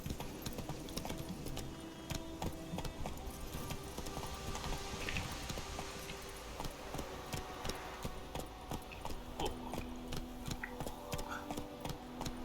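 A horse's hooves clip-clop steadily at a walking pace in The Witcher 3, a continuous rhythmic ticking over a low ambient game background. The sound is moderately close and fairly quiet.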